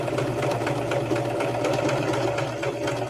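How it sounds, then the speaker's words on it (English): A sewing machine runs steadily as it stitches a seam after a back tack, giving a continuous, close mechanical hum with a fine rapid needle rhythm and no pauses or talking. "I'm just going to sew"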